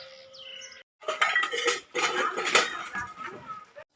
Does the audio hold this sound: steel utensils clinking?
yes